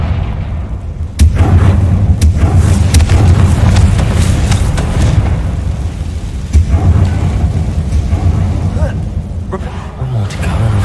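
A Confringo blasting spell from Hogwarts Legacy, a loud booming explosion with a sharp crack followed by a sustained rumbling roar that holds for several seconds, with further heavy impacts later.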